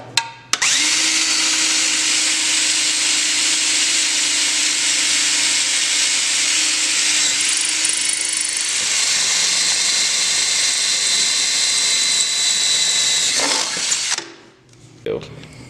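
A power drill whines at a high, steady pitch for over ten seconds, drilling a rivet hole through a bulkhead brace plate on a Ski-Doo Gen4 snowmobile, then winds down and stops.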